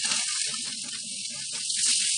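Dried shrimp and chicken hit hot oil in a frying pan with softened onion, giving a steady, close, bright hiss of sizzling that holds for about two seconds.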